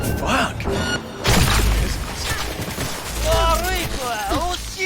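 Bursts of gunfire and impacts in the video game Cyberpunk 2077, loud and close, mixed with in-game character voices and shouting.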